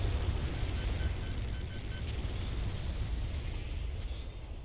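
Cannon gun fire and explosions in the video game Doom, a continuous dense roar of blasts and rumbling booms layered over each other, loud throughout with heavy low-end and no clear pauses.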